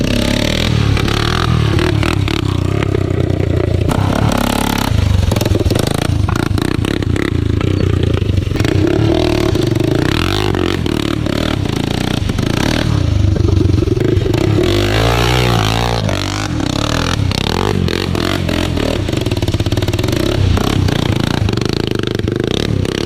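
A quad racer fitted with a straight pipe exhaust roars loudly and close, its engine rising and falling through steady revving with clattering mechanical noise, continuous for the whole stretch.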